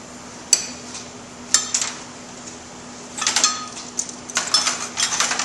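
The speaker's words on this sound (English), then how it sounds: "Now I am using a fork to whisk just because the amount we're making is so small" Metal fork tapping and scraping against a small bowl while whisking mayonnaise ingredients, scattered sharp clinks at first, then a quicker run of rattling strokes near the end, close and alone.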